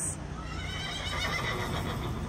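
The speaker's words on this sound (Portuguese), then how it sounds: "Olha o cavalinho" A horse riding in a trailer hitched to a pickup at a gas station gives a steady, close neigh that stays loud for about two seconds under a continuous background hiss.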